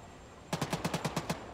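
Burst of automatic gunfire in the military shooter Arma 3, about nine evenly spaced rapid shots over a second, loud and close after a quiet lead-in, with no talking.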